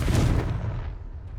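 Confringo blast spell in Hogwarts Legacy, a single heavy booming explosion that hits hard and rumbles away into a fading low tail within about a second.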